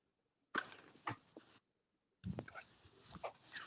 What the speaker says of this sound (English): I got a runaway dog that's trying to run away right now.